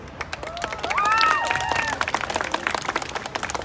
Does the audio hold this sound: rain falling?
no